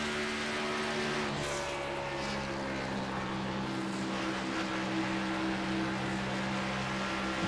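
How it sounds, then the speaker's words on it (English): Race car engine in a sim racing game at Homestead, the driver blipping and modulating the throttle so the engine pitch steps down then holds a loud, buzzing drone, with no talk over it. "You can hear how much he really is just messing with the throttle, trying to keep that car under control"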